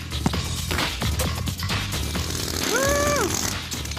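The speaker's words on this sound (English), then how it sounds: "we've mechanized the hammer process so that we can move a lot of stone really quickly" Rapid, steady hammering of a mechanized chisel against stone with a harsh grinding clatter, plus a brief rising-and-falling whine partway through.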